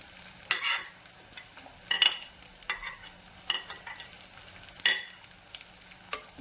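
Shallots, ginger, garlic and curry leaves fry in a pan, a soft sizzle broken by several sharp stirring scrapes and clatters at irregular intervals.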